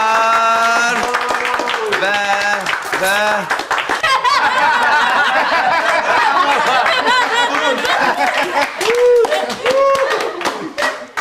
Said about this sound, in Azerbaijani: Alqışlar, alqışlar.